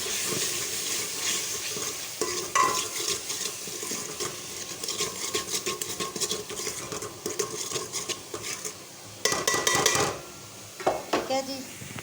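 Spoon stirring and scraping as spices are fried in a pan for a white chickpea curry, steady clinking and scraping of metal utensil on cookware throughout, close and fairly loud, with brief sharper knocks near the end.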